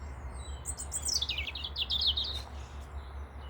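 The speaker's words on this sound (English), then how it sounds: "the birds do love to have a peck at the" Birds chirp and tweet on an allotment, a run of quick, high calls in the middle distance over a steady low outdoor hum.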